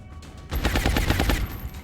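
Gunfire in the game XCOM: Long War, a rapid burst of loud, close shots in quick rhythmic succession lasting about a second after a short quiet lead-in.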